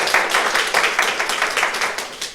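Rhythmic clapping from a small group at a public meeting held in a church space, a brisk, fairly even run of hand claps lasting a couple of seconds.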